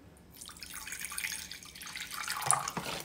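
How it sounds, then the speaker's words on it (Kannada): Water trickles and splashes into a bowl of finger millet (ragi) flour for a batter, a close running pour that builds over about three seconds with no talk. "ಸ್ವಲ್ಪ ನೀರು ಹಾಕೊಳ್ಳಿ"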